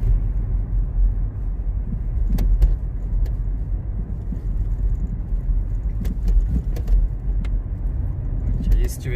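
Cars pass on a foggy morning road in Birmingham, UK, making a steady low traffic rumble with a few soft clicks while someone talks over it.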